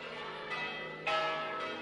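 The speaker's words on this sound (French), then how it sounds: "Les cloches sonnent à toute volée" Cathedral church bells ring at full peal during an emperor's coronation ceremony, a faint, distant sustained ringing with a couple of fresh strikes standing out over the hum.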